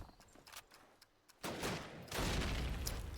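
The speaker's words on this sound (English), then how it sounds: "and Beat coming out with the PPSH" Bursts of PPSh submachine gun fire from Call of Duty, first faint and scattered, then a louder sustained rattle over the last half, with no speech.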